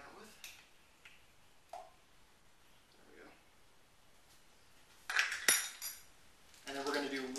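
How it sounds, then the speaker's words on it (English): A spoon clinks and scrapes quietly against a container as the last of the agave syrup is scooped out while hemp milk is being made, with a few louder knocks near the end. "get a spoon out of here to scoop the rest of this agave out with"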